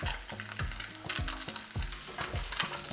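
A striped bass fillet sizzles in a frying pan, with a dense steady crackling hiss and small pops throughout, close and moderately loud, no talking.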